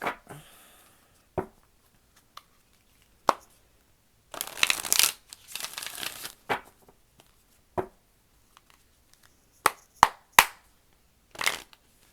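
A deck of tarot cards is shuffled in a quiet room, making crisp riffling bursts and scattered taps and snaps, with a longer flurry near the middle and short shuffles spaced out across the rest.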